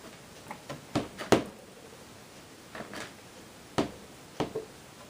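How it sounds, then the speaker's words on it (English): Rubber stamps are being wiped clean in a card-making session, giving a scattered run of soft taps, clicks and rubs, close by and fairly quiet with uneven gaps. "the noise you hear is me cleaning my stamps off really quick"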